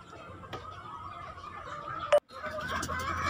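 Gamefowl roosters in a breeding area give short clucks and a brief crowing burst, fairly close, over a steady background hum, with no one talking.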